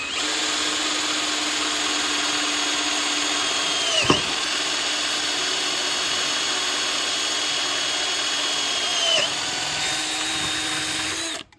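A DeWalt power drill runs continuously with a high, steady whine, dipping briefly in pitch twice as it bites into the workpiece, loud and close, before stopping abruptly at the end.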